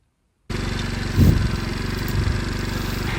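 A 1972 Honda Dax with a swapped-in 125cc Lifan engine runs steadily at close range, a buzzing idle that rises briefly as the throttle blips, with no talking.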